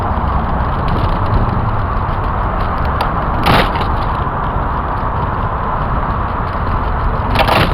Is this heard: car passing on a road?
yes